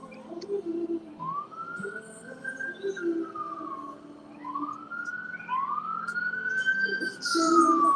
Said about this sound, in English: We got a siren coming by again.